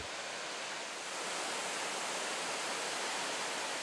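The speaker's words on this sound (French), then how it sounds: "Le silence de la forêt est troublé par un son de cascade." Steady, dense roar of the Lignon river's waterfall in a Sidobre forest filling the whole clip, broad and continuous with no other sounds standing out.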